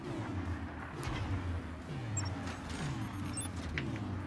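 Mortars firing in a fort-building video game, low rumbling booms rolling in repeatedly under a continuous dull roar, with faint higher clinks scattered through the battle noise.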